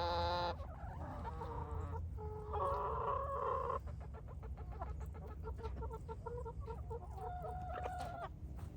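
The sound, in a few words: chickens clucking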